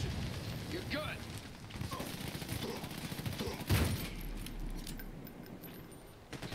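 Gunfire in the shooter game Army of Two: The Devil's Cartel, a dense rattle of shots under a steady game soundscape, with one louder blast near the middle standing out.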